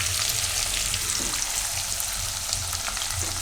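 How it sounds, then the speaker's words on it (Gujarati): Chillies and curry leaves sizzle in hot frying oil, a steady close hiss with faint crackle and occasional stirring, no voices. "તો થોડીક વાર આને તેલમાં ફેરવી લેવું, મરચાં આ રીતે પાકી જાય એ રીતે"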